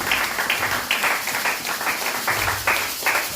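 A church congregation claps and cheers in acclamation of Jesus, a steady crowd applause with rhythmic bursts rising and falling, fairly loud and continuous throughout.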